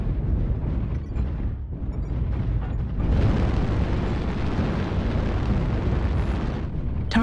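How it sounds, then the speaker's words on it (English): Artillery strike explosions in the mech combat game Mechwarrior Online: a sustained rumbling roar of blasts that swells sharply partway through, loud and dense. "Artillery strike online."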